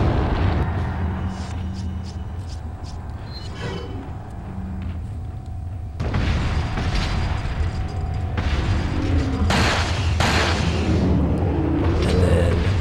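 Gunfire in the video game Resident Evil 4 during a battle with two giant enemies, with heavy booming shots and impacts repeating over a rumbling game soundscape.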